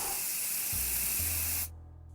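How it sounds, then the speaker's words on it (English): Insect-killing spray can in the 60 Seconds video game, a loud continuous aerosol hiss for about a second and a half that stops abruptly, leaving a low hum. "Insect killing spray can wipe out any mutated mosquito, as well as creatures lurking in the shadows"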